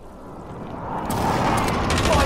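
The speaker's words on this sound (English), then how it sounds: "Be advised, friendly precision airstrike inbound" A precision airstrike detonates in Call of Duty Warzone, a dense rolling burst of explosions that swells louder and stays sustained, loud and close, with a voice talking faintly underneath.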